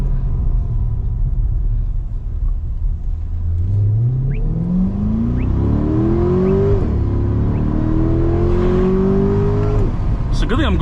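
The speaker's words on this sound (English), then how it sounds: "Damn, the car is burbling like crazy right now." A Chevrolet C8 Corvette in Sport+ mode burbles and rumbles from its exhaust, then revs up through rising pulls. It is loud and close from inside the car, with a voice speaking over it.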